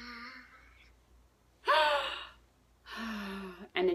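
A deep breath taken as a calming exercise for anger, with audible breathy inhales and exhales in a few separate bursts, close and fairly loud in a quiet room.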